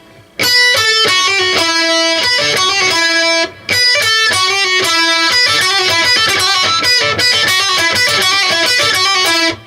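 Loud, close distorted electric guitar plays a lead solo phrase from a song, with rapid picked and legato notes, hammer-ons and pull-offs, a short pause partway and then continuing, with no talking.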